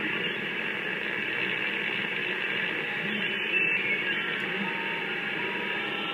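A weak Morse code signal comes through an SDR receiver built around an SA612 mixer and AD9850 DDS, the faint keyed tone sitting almost buried in a steady, loud bed of radio static and hiss.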